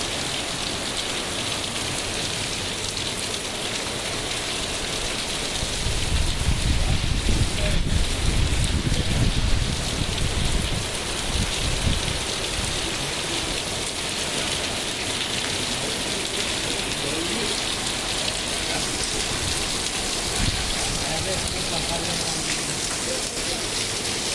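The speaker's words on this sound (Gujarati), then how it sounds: "વરસાદ પડી રહ્યો છે" Heavy rain pours steadily in Talaja, Gujarat, a dense even hiss of drops on surfaces lasting throughout, with a louder low rumbling stretch partway through.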